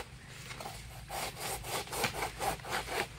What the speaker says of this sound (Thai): เลื่อยกล้วยกับตัวนี้จ้ะ